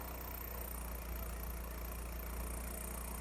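A Toyota AE86 engine idles steadily at about 1,000 RPM, a constant low hum and rumble heard close up and without interruption.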